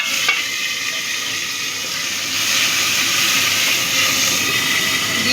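Chopped tomatoes hit hot mustard oil with fried whole spices, a loud, close, continuous sizzle and frying hiss that swells partway through, with no talk.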